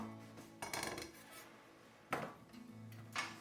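A knife slices eggplants into smaller pieces on a board, three separate crunchy cuts with scraping in between, close and fairly quiet.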